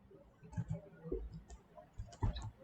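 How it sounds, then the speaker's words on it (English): Computer mouse clicks come in quick, irregular bursts while navigating folders and saving a geophysical map file, small close taps scattered through a quiet room. "click to get into the folder, then click save, then OK"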